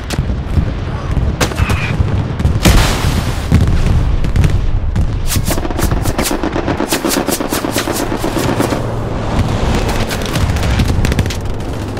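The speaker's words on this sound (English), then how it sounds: "Bombing runs coming in." Bombing-run explosions and heavy battlefield fire in the World War II shooter Hell Let Loose at Carentan, with loud booms giving way to rapid machine-gun bursts and dense gunfire throughout, close and intense.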